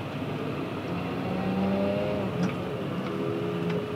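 A Fendt One tractor drives onto a field, its engine a steady, moderately loud drone with a low whirring hum that holds throughout, with no talk.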